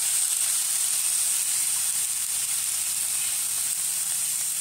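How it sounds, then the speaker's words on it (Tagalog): Pork sticking to the bottom of a wok sizzles loudly and steadily as a little water is added, a continuous close hiss of frying with no voices, for a sautéed chayote and carrot dish. "At tubigan na rin po natin kasi medyo dumidikit na sa ilalim ng kawali ang ating pork."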